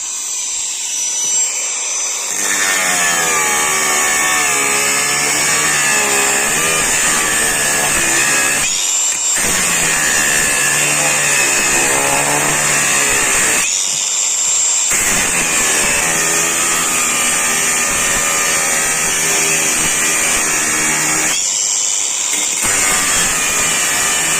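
Procraft PGA 20 cordless angle grinder cutting through a 20 mm metal shaft, a loud, close, high whining grind held in long runs with a few short pauses between cuts.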